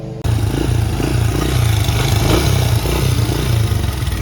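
A small dirt bike engine, a CRF85 or KLX125 with its fuel shut off, runs steadily at a loud, close idle with a low, even chugging and slight mechanical clatter, burning the last of the fuel in its carburetor.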